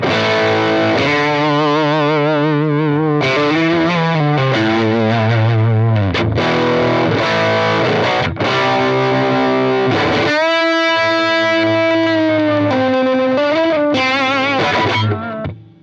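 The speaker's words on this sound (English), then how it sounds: "it's a really crazy good, dark, sustained kind of fuzz sound" An electric guitar plays sustained notes and chords through a JHS Paul Gilbert PG-14 pedal's thick, dark fuzz distortion, with long ringing tones and wavering pitch.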